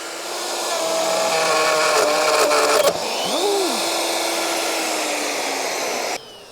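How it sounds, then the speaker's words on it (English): A router trims wood along a 3D printed template with a loud, steady high-pitched whine. The pitch shifts and cuts out near the end, close to the mic. "I can just use a 3D printed template to finalize things with a router"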